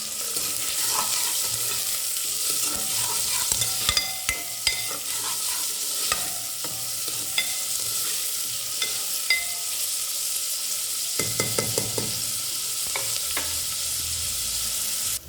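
Curry leaves and spices stirred in a hot pan for mushroom biryani, a continuous sizzle broken by repeated scraping and tapping strokes of the spoon, no voices.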